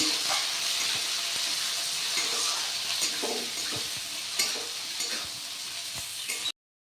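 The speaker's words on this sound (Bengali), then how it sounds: "বুক চালটা দিয়ে একটু ভাজা ভাজা করে নিব আমি।" Gobindobhog rice sizzles steadily in hot oil while a spoon scrapes and stirs through it, the frying hiss continuous until it cuts off abruptly.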